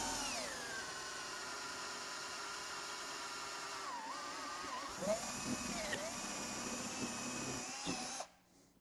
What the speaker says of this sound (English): So I'm going to drill a 5/8 hole right in this area here. I'm using a paddle bit.